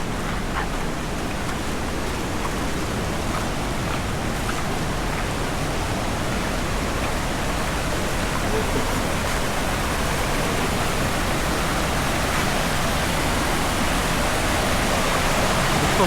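Casaroro Falls, a tall waterfall, pours in a steady, loud broadband roar that stays constant and close throughout, with no voices over it.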